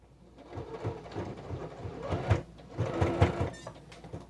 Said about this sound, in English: We're going to go double stitch this edge.